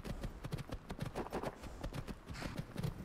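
A horse's hooves clip-clopping in a video game, a quiet, steady, rhythmic run of hoof beats at trotting pace, heard alone without talk.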